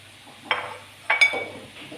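Onions go into a hot pan with merguez sausages, giving two quick bursts of sizzling that fade to a soft, steady frying hiss.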